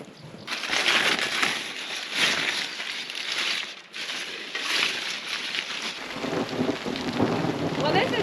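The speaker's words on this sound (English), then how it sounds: "I don't know if you can hear the thunder, but you can probably see the rain" Steady heavy rain pours down during a storm at an off-grid homestead, with rumbling thunder swelling beneath the downpour, close and loud throughout with no voices.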